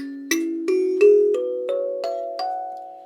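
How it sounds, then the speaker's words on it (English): A gourd kalimba plucks a slow, evenly spaced rising sequence of bright, chiming notes, each ringing briefly into the next. "This is a beautiful little instrument that sounds like this."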